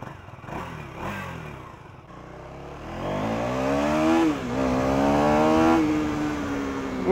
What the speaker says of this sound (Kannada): ಇಂಜಿನ್ ಗ್ರಂಟ್ ಐತೆ, ಹಂಗೆ ಎಕ್ಸಾಸ್ಟ್ ಫೀಲ್ ಕೊಡ್ತಾ ಐತೆ, ಅದು ಎಕ್ಸಾಸ್ಟ್ ಬೀಟ್ ಹೊಡಿತಾ ಇರೋದು